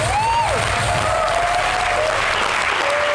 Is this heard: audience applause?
yes